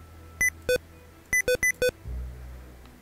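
Sharp electronic beeps from the video game Red Dead Online sound in two groups, a pair and then four quick ones, clear over a low background hum.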